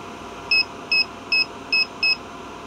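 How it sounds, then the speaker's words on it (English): A power inverter alarm sounds during a load test of a 12V 150Ah LiFePO4 battery, giving five short, sharp, evenly spaced beeps over a low steady hum, close by with no talk. "That's actually the alarm on my inverter here."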